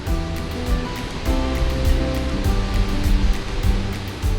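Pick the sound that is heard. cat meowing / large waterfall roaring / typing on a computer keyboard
large waterfall roaring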